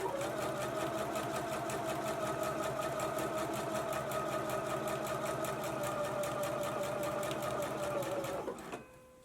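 A sewing machine runs continuously in a fast, even stitching rhythm while basting a yoke onto a back pattern piece, a steady mechanical whir and clatter that slows and stops near the end.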